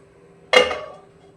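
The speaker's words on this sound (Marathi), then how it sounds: "पुन्हा मी झाकण ठेवते" A metal lid set down on a cooking pot of egg curry gravy gives a single close, bright clink that rings briefly and fades, with near silence around it.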